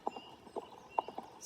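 Hooves clip-clop on a ridden horse, quick irregular knocks in a loose walking rhythm, fairly close and clear against a quiet background.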